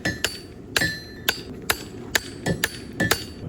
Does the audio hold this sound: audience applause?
no